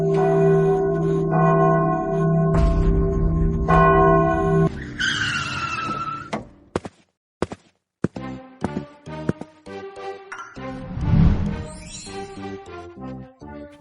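A long-silent old bell in a park rings out with loud, sustained metallic tones, then a sharp screeching sweep, followed by scattered clangs and a burst of clattering noise.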